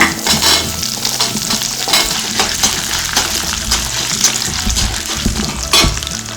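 Dried red chilies, small onions, ginger and garlic frying in a pan for a pearl millet chilli chutney, a close, lively sizzle with repeated stirring scrapes and clatter.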